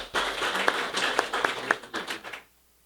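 A seminar audience at a skills development partnership program gives a short burst of applause, moderately distant, lasting about two and a half seconds before fading to silence.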